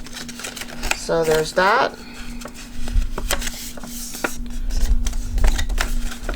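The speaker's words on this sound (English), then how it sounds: "Let's just go ahead and fold over some of those score lines" Paper being folded along score lines for seed packets, a series of crisp creases and rustles with sharp taps, close by, mixed with a person talking briefly.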